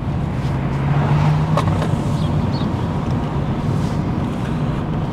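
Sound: Mercedes A-Class car driving

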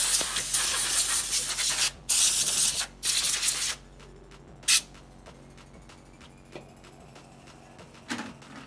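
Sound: spraying dust out of a PS4 Slim

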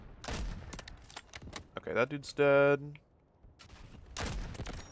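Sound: sniper gunfire in Delta Force video game

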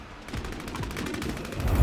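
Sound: gunfire in a battle royale video game

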